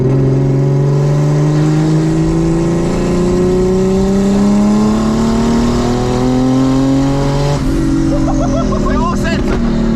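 A turbocharged BMW E36 320i accelerating hard at 1.1 bar boost, its engine note climbing steadily in a loud, continuous pull before a shift near the end, heard from inside the car while people talk over it.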